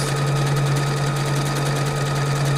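A Fadimex sewing machine stitches a memorized pattern with a loud, steady motor hum and rapid needle chatter, close by and continuous without talk.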